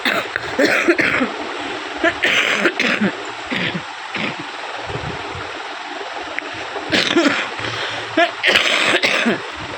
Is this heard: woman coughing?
yes